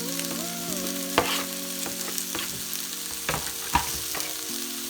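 Onions and garlic sizzle steadily in a hot pan, with occasional scraping knocks from stirring cutting through the continuous frying hiss.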